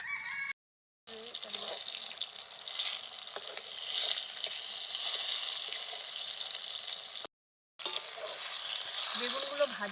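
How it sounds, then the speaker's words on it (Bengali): Eggplant pieces frying in hot oil in a pan give a steady, close sizzle that runs almost the whole time, broken by two brief silent cuts. "সবগুলো বেগুনই কিন্তু ভাজা হয়ে গেছে।"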